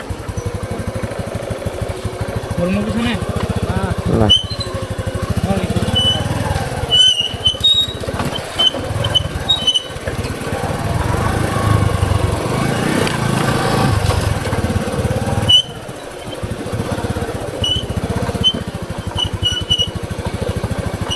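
A motorcycle engine runs steadily near a riverbank, a continuous low rumble with slight variations in pitch, holding at a fairly constant level throughout.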